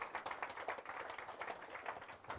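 A church congregation applauds after a prayer, steady soft clapping from many hands, faint and somewhat distant, without voices over it.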